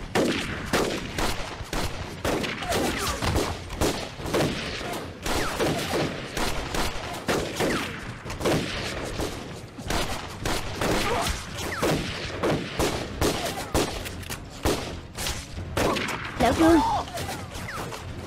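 Dense battle gunfire from a war film set in the anti-Japanese resistance, with rapid bursts and scattered single shots running throughout, loud and close, mixed with shouted dialogue.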